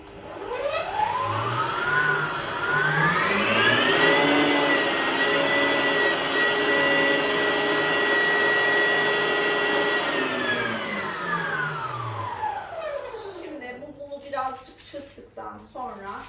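An electric mixer beating cake batter for an orange chocolate cake, a loud whirring motor that rises in pitch, holds steady, then winds down near the end before clattering.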